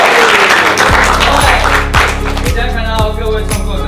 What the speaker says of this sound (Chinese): 所有创作者们给自己一个掌声鼓励